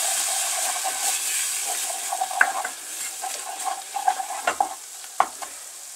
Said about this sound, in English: you have to add your liquid, your stock, a little bit at a time, otherwise you end up with lumpy gravy